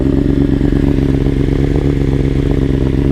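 Steady, loud engine note from a 2021 BMW S1000RR sport motorcycle fitted with a titanium exhaust header, a dense low rumble with rapid mechanical clatter that runs without a break and has no talk over it.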